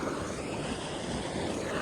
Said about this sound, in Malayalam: അത് പൊട്ടിയിട്ട് വെള്ളം ഒഴുകി പോവാണ്